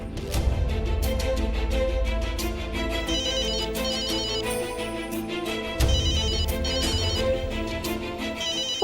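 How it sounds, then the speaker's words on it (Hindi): A telephone ringtone plays a loud, melodic, repeating tune with a steady beat, continuous for the whole stretch, and nobody answers it in a domestic drama scene. "दीदी फोन उठाइए ना।"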